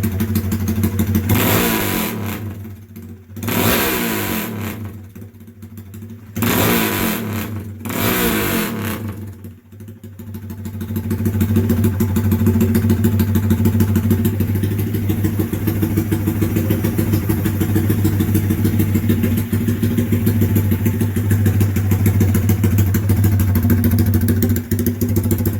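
A straight-piped, port-worked Grom motorcycle engine idles cold at close range, a steady loud burbling drone broken by a few sharp revs early on before settling into an even idle.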